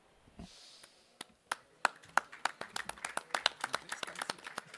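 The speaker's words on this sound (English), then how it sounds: "applause for the guys who lose but leave hearts in these fights" Sparse clapping at a post-fight MMA press conference, starting with a few isolated claps that quickly build into quicker, denser applause from a small group, fairly close and mostly free of talk.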